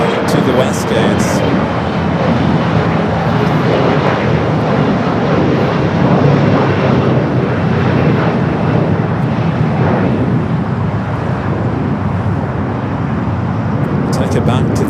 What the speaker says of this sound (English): So Condor will head into the west gates.